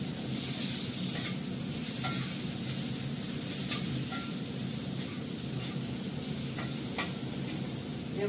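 Ginger paste sizzles in a hot pan with a continuous bright hiss, and a utensil scrapes and stirs it at intervals, with a few sharper clinks standing out above the frying.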